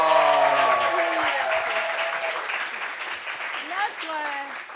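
A television studio audience applauds loudly and steadily, with a host's voice talking briefly over the clapping near the start and again toward the end.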